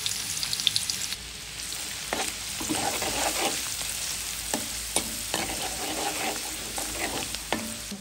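Garlic sizzles in hot oil in a wok, cooked with dried fish, giving a steady bright crackling hiss with occasional louder pops and stirring scrapes, close and continuous throughout.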